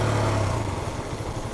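Engine of a 2021 Husqvarna Svartpilen 125 motorcycle while riding, a steady low hum that drops in pitch partway through with continuous wind-like rush over it, no voices.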